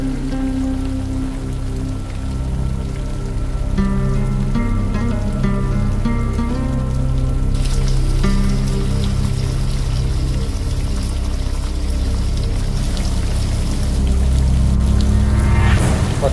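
Steady rain pours down outdoors at a rural homestead, a dense, even hiss that thickens and brightens partway through and keeps going without a break, with no voices over it.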